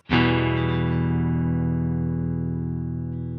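A single picked electric guitar chord through an MXR M305 tremolo pedal in harmonic tremolo mode rings out and sustains, its volume wavering in a pulsing tremolo that slows as it decays.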